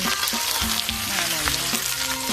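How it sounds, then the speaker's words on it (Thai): Wan tum mu greens stir-fried with pork in a hot pan give a close, continuous sizzle, broken by repeated scraping and stirring strokes. "บ้านสวนเอามาผัดใส่หมูนะคะ"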